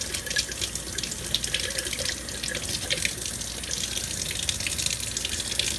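Steady tap water runs and splashes over broccoli sprouts in a sink, a continuous close hiss with faint dripping and no voices.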